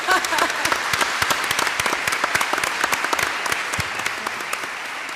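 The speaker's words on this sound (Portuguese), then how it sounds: "eu peço um aplauso aqui para a mesa" Audience applause for the panel at an epilepsy neuroscience symposium, dense steady clapping from a large hall crowd that holds strong for about five seconds with many sharp individual claps.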